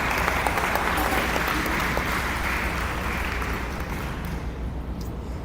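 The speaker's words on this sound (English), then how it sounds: "Let's give all of our recipients a great big round of applause" A banquet audience at a county NAACP event applauds award recipients with sustained, dense clapping from a large crowd that slowly thins and softens near the end.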